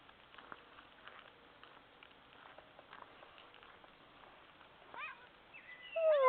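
Quiet rustling and soft patter, then a few short meows near the end, close and growing louder.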